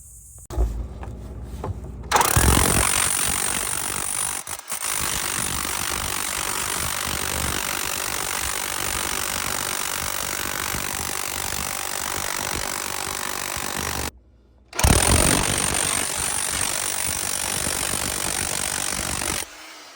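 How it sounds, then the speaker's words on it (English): Chipping hammer hammering and breaking out concrete around a cast iron kitchen drain in a 1957 beach house, a loud, sustained rattling clatter close by that stops briefly before resuming. "Now we got to get the chip and hammer out and break out some more of that concrete"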